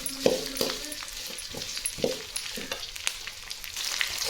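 Onions frying in a pan for a vallarai keerai dish, soft sizzling under repeated knocks and scrapes of a spoon against the pan, close and uneven, with no one talking.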